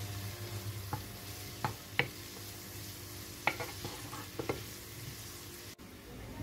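Ingredients being stirred into a sofrito in a pan, a quiet steady sizzle broken by a few soft scraping knocks of the spoon against the pan.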